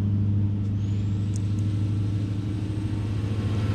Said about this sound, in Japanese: トラックのエンジン音めっちゃ静かだね